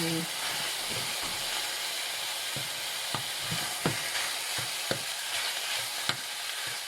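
Steady sizzling and frying of pork stir-fried in a hot pan with intermittent scraping and clacking of a utensil stirring, close up and continuous.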